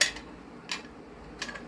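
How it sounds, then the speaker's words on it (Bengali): Dried peas dropped into a pressure cooker make three short, bright rattling clinks spaced evenly apart, each a quick patter against metal, close and fairly quiet. "দেখো, মোটর এই দিচ্ছি প্রেসার কুকারে"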